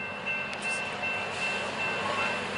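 A steady rumbling roar of a train passing Carlsbad Poinsettia Station, with a faint high whine and light rattling layered over the continuous noise.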